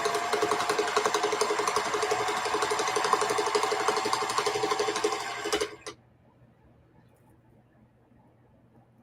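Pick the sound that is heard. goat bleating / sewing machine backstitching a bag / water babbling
sewing machine backstitching a bag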